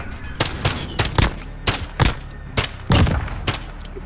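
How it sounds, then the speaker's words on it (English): Gunshots in a shooter video game ring out as about a dozen sharp, loud reports in an uneven rhythm, some doubled, with no talk over them. "Shots, that guy didn't even hit you."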